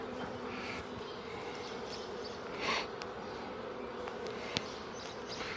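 Honeybees droning steadily in an opened hive a week after a nuc was installed, a continuous close buzz with a few louder passes near the frames and a brief tap midway.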